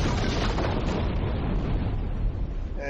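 A big video game explosion as a turret is destroyed, a loud sustained roaring blast that fills the whole stretch and eases slightly at the end.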